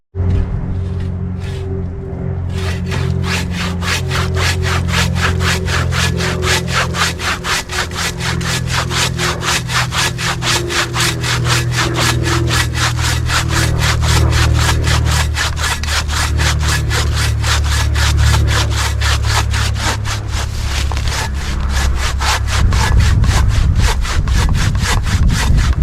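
Rhythmic back-and-forth strokes of a hand saw cutting through a wooden branch, steady and close for a long stretch, growing rougher near the end.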